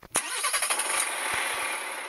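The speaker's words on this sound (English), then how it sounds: "let's go start up the truck." A truck engine starts in the Truck Simulator Ultimate game, with a sharp initial jolt and a short burst of rapid cranking pulses that roll straight into a steady running drone, heard alone.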